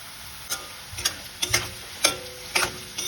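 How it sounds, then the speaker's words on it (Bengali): Carrot pieces fry and get stirred in a pan for sago khichdi, with a soft steady sizzle broken by repeated scraping stirs about every half second. "তো গাজরটা যেহেতু একটু শক্ত তাই আমি এটা একটু ভেজে নিচ্ছি"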